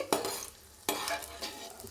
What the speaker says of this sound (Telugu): ఇప్పుడు మనము ఎండుమిర్చి వేస్తున్నాం